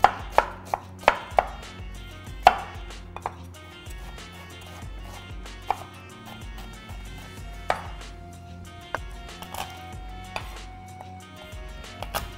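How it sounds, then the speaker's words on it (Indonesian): A knife chops an onion on a cutting board in irregular, sharp taps, with a quick cluster of strokes early on and then sparser single cuts spread out, close and fairly quiet. "Selanjutnya kita mau potong-potong bawang bombay."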